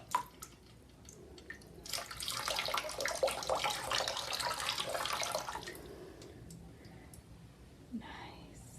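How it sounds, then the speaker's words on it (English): Red-dyed hot water poured into a tub of cold water in a classroom ocean-current model, a steady splashing pour lasting several seconds, near and fairly loud, with soft murmured voices before and after. "I'm going to take my hot water, which is red, and move it into my tub of cold water"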